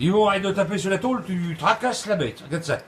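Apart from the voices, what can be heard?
None of the usual background noises is heard.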